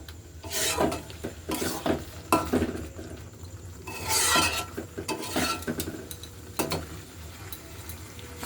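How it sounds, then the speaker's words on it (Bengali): Chicken bharta is stirred in a pan with a utensil, rough rhythmic scraping strokes in uneven bursts over a soft cooking sizzle, close and fairly loud, with no speech. "এটাকে দিয়ে আমি সব ভালো মতো আবার একটু নেড়ে নেবো"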